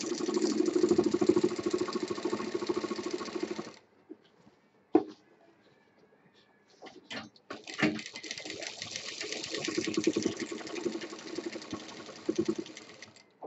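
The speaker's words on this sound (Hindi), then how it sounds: "अब पूरी सीधी सिलाई" Sewing machine stitching a straight seam on a homemade triple-zip shoulder bag, a steady, loud mechanical whirr that stops for a few seconds of quiet handling clicks, then resumes running steadily.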